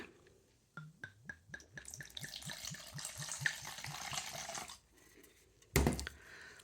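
Kirsch and beer poured and mixed to make a hornet trap liquid, glugging pours with rising bubbly tones followed by a steady splashing stream and a sharp clunk, close and without talk.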